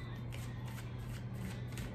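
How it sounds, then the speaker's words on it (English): A Dancing in the Dark tarot deck is shuffled by hand, giving a steady, soft papery riffling that runs without a break, with no one talking. "then we'll start shuffling. I am using Dancing in the Dark Tarot"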